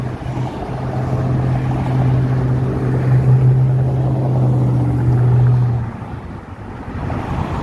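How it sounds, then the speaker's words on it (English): Steady freeway traffic at rush hour in Los Angeles forms a loud, continuous roar with a deep engine hum that holds for several seconds, then eases slightly. "me having to speak a little louder because of the traffic, the noise from the traffic"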